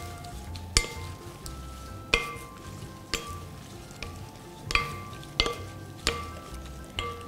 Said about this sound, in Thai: แล้วเราก็คลุกส่วนผสมทุกอย่างเข้าด้วยกันนะคะ